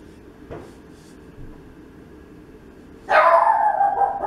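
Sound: dog barking

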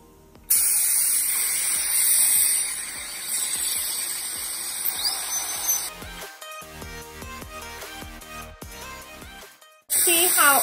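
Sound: dental polishing burr smoothing a temporary crown

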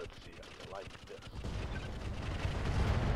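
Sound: nuclear explosion in a video game, Roguetech

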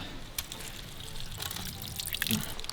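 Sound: spring water trickling into a bottle

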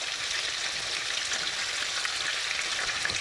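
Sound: meat rolls with bell pepper frying in a pan

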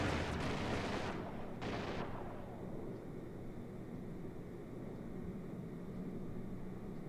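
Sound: starfighter firing at the player's ship, Star Citizen video game

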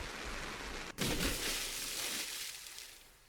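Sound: rain and splashing water in video game Absent in the Rain

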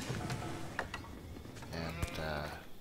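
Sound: sheep bleating in a video game

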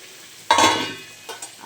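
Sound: frying fritters

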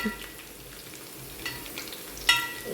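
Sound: green chilies being sautéed in a pan

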